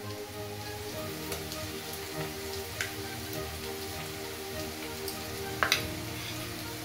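Ginger garlic paste fries with onions in a pan, making a quiet, even sizzle and crackle with a few sharper pops near the end.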